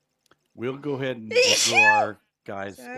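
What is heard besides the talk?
sneeze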